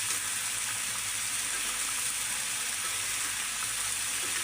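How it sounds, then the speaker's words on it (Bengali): Broth is poured into an egg and tomato curry in a pan, making a soft, steady sizzle and watery hiss that runs continuously and quietly, with no talking. "আর আমি হচ্ছে এখন একটু করে ঝোল এর মধ্যে দিয়ে দেবো"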